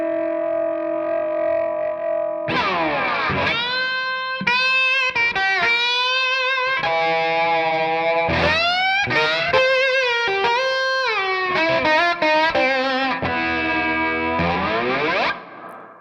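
Slide guitar harmonics bleeding into neighboring strings, played through distortion and effects, with wailing, bending slid notes in bursts separated by brief gaps, loud and sustained.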